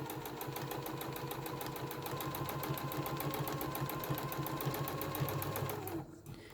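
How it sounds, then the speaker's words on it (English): A sewing machine runs fast and steady, its needle clattering in a rapid even rhythm for several seconds before stopping abruptly. "here we are on the sewing machine, and we're just going to drop our needle and sew around"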